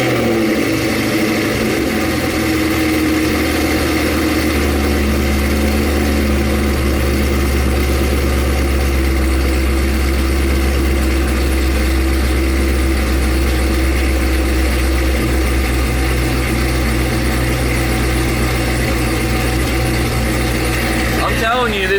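Cadillac CTS-V3 engine idling steadily and loud at close range, a constant low drone held throughout with no revving.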